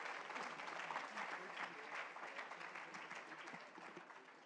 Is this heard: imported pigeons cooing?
no